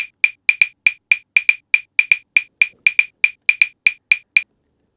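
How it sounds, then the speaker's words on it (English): A metronome app called PolyNome taps out a bembe rhythm in 3/4 as crisp, identical clicks in a repeating uneven pattern, loud and alone, stopping after about four and a half seconds. "and that's the rhythm, the bembe rhythm"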